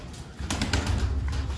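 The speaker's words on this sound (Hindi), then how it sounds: "ये काला कबूतर अपना है" Low, soft cooing from a black pigeon close by, with a few murmuring pulses over faint background noise.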